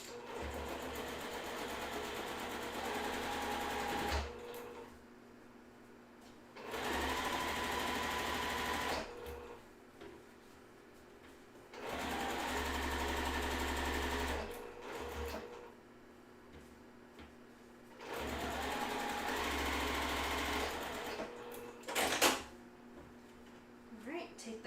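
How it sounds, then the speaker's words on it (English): Sewing machine stitching pieced quilt blocks together, running in three sustained bursts of whirring stitching separated by quiet pauses, close and steady, with occasional handling noises. "I'm going to go ahead and sew that together."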